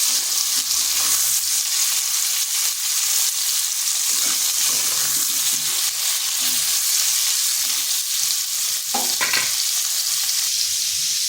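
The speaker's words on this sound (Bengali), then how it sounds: "ওদিকে পটলটা ভাজা হচ্ছে" Pointed gourd (potol) frying in oil in a pan, a steady close sizzle with occasional stirring scrapes and clinks, no talking.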